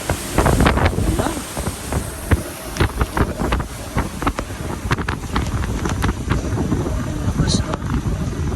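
Strong typhoon wind gusting through Hong Kong streets, a loud continuous roar of buffeting wind noise with sharp gust bursts hitting the microphone throughout.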